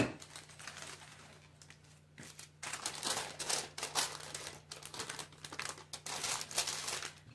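Tissue paper for a chocolate bouquet is crumpled up close in repeated crackling bursts, with short pauses between handfuls, over a faint steady hum; no one speaks.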